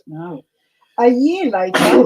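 A sharp, loud sneeze bursts out near the end, following a stretch of speaking voices on a spooky storytelling podcast.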